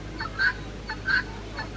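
Chickens clucking at a farm alongside rabbits, ponies, sheep and goats, a few short clucks and calls repeating at intervals over faint background noise, with no talking.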